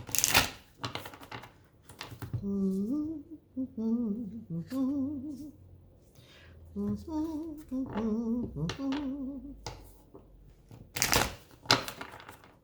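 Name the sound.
shuffling cards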